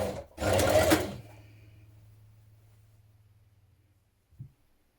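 A sewing machine runs one short, loud burst while stitching a dress seam, then a low motor hum trails off and a small click follows.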